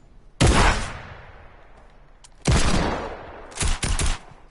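Gunfire from the player's weapon in a John Wick themed shooter video game, three loud close bursts with ringing decay, the last a quick double, separated by near silence.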